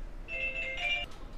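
A phone rings in a lecture room: a bright electronic ringtone with steady sustained tones, moderately loud, repeating for about a second with no talking over it.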